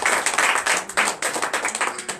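A congregation claps in acclamation during an evening church service, quick uneven bursts of hand claps heard close and fairly loud, with brief gaps between the rounds.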